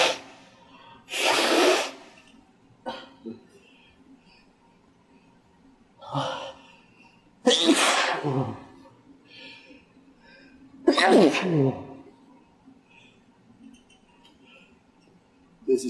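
Four loud, forceful human sneezes spread out over about fifteen seconds. Softer breaths, gasps and sniffles fill the gaps between them, and no words are spoken.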